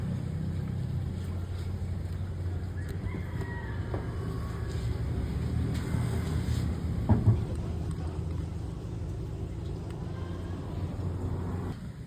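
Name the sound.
Hicon commercial ice machine running its cleaning cycle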